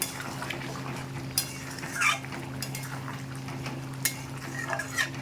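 Chicken curry being stirred after garam masala paste and a spoon of ghee are added, with spoon scrapes and clinks against the pot at intervals over a steady background hum, close and moderate.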